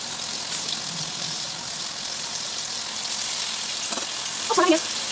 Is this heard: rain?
no